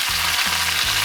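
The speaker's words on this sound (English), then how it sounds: "So we're gonna get them on this side here, sear off the fat cap" Steaks sear fat-cap down in a hot pan, cast iron or stainless steel, giving a loud, steady broadband sizzle with a low hum running beneath it.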